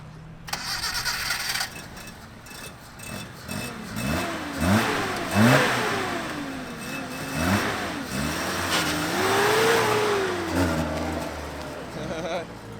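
Car engine revving for a burnout, climbing and falling through repeated hard revs that rise to a long sustained high pull, loud and close, with people talking over it.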